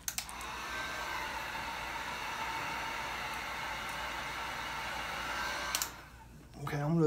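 A heat gun runs for about six seconds while heat setting a Red Perch fly pattern, giving a steady loud blowing roar that starts and stops abruptly, followed by a brief voice.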